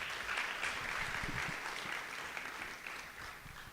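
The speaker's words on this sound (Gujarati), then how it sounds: "બધા છોકરાઓને ફરી એકવાર તાળીથી વધાવીશું." A crowd of families at a Gurukul cultural program applauds children after their drama performance, a steady wash of many hands clapping at even volume throughout, easing a little near the end.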